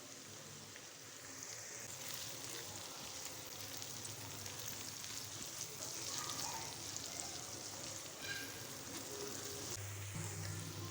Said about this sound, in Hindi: प्याज और टमाटर को फ्राई करने के बाद अब हम अदरक लहसुन का पेस्ट ऐड करेंगे।